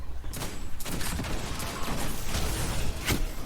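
Gunfire from a shotgun in a video game match, sharp repeated blasts scattered across a busy, loud mix of in-game action and mechanical noise.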